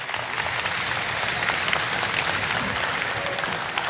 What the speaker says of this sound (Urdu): تالیاں بے شک بجاتے رہیں, خود ہی ختم ہو جائیں گی